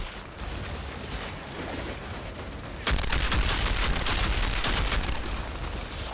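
Sniper gunfire from the shooter game Outriders: a dense, noisy barrage that grows louder and harsher about halfway through, with shots blurring into continuous battle noise.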